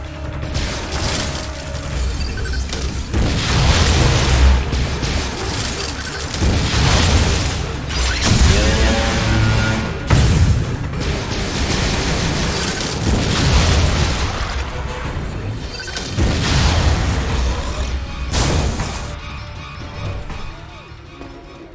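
Missile fire and heavy explosions in the Metroid Other M video game: repeated loud booms and bursts over dense mechanical noise, coming in several waves with short gaps between them.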